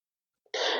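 A single short, close cough from a student in a classroom, a brief breathy burst after a moment of silence.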